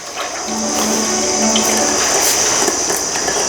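Cold-pressed coconut oil pours in a steady liquid stream for about three seconds, close and fairly loud, with no voices.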